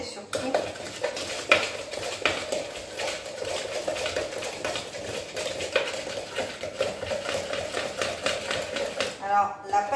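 Vanilla cannelé batter is whisked in a bowl with a quick run of metallic clinks and taps against the sides, fairly close, while a voice talks over it.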